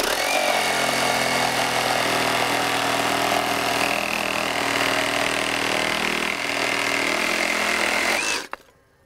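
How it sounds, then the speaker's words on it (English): A Metabo HPT MultiVolt 36-volt reciprocating saw in oscillating mode cuts wood with a loud, steady buzzing drone for about eight seconds, then stops abruptly. "Oscillating mode on the Metabo HPT."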